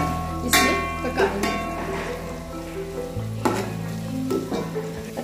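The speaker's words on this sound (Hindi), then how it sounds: "तेल से गर्म होगा, हम इसमें प्याज डालेंगे" Chopped medium onion sizzling and frying in about half a cup of hot cooking oil, with stirring scrapes and a steady crackle throughout; a voice talks over the cooking.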